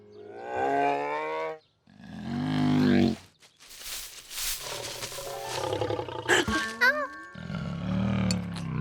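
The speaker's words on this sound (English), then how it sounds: "A bear." A cartoon bear roars in a deep growling blast after a childlike voice, then rumbles and grunts on under other voices and sound effects, close and loud.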